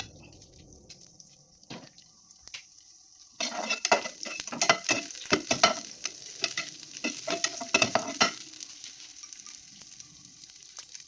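Garlic and chili stir-fried in a pan for a zucchini, egg and pork dish, starting quiet then turning to loud continuous sizzling with scraping stirs and clinks of the utensil, close and with no talk.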